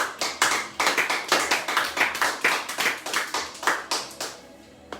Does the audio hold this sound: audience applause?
yes